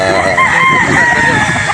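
A gamefowl rooster crows loudly and close by on a game farm in a long drawn-out call, with a dense wash of other farmyard noise behind it.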